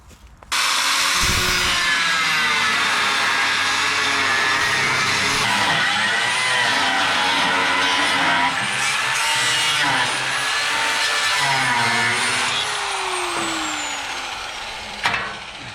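A power tool grinds loudly and steadily through metal water-tank hangers, its pitch wavering and dipping as it cuts, running almost the whole time before a brief clatter.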